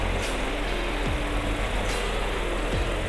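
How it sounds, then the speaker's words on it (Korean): A Cadillac CT6 3.6 Platinum AWD engine idles at a steady, even rumble, heard close with a constant low drone and no talk over it. "엔진 소리도 일정하네요"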